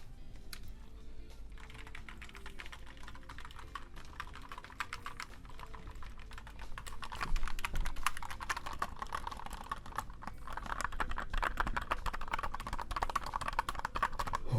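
Steady clacking of keys on a mechanical keyboard, apparently with Cherry Brown switches, close up, typing continuously and growing a little louder and busier partway through.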